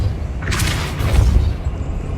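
Depulso spell blast in the Hogwarts Legacy video game, a single deep booming thump with a rushing whoosh, close and loud, fading over about a second with no voice over it.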